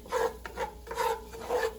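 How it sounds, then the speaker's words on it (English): Wooden spatula stirring a thick roux of flour, butter and bacon grease in a cast iron Dutch oven, three rhythmic scraping strokes at close range with no talking. "we're going to stir that up with that wooden spatula because I'm using this Dutch oven cast iron"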